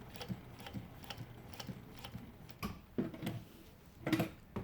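A Consew P1206RB-1 industrial sewing machine with a servo motor runs slowly, giving a quiet, regular series of light mechanical clicks and thumps that speed up near the end.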